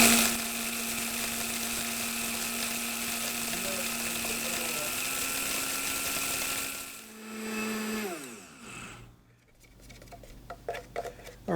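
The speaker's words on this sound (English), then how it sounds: "we'll grind that up. It'll grind up the seed and the pepper." A small electric grinder whirs steadily, milling flaxseed and pepper into a spice mix, its high motor whine running for several seconds before it winds down. A few light clicks and taps follow.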